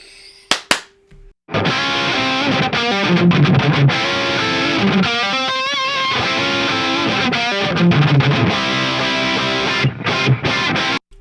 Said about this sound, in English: But here's my 77 just cranked up with the gain dimed and a little bit more gain on the 808.